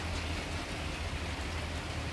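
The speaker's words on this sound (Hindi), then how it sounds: "बारिश स्टार्ट हो गई।" Steady rain falling outside a metro station parking area, a soft continuous hiss with a low rumble beneath it, moderately faint and unbroken.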